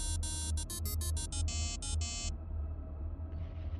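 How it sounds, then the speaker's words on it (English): A phone rings in a rapid series of bright electronic tone bursts, loud and close, then stops and leaves a low hum with a faint hiss at the end. "My ringing phone sounded jarringly loud in contrast."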